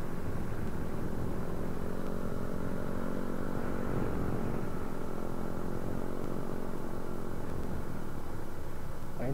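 Honda ADV 160 automatic scooter engine droning steadily as it rides across the Bromo sand sea, a continuous close motor hum that varies slightly in pitch, with no talk.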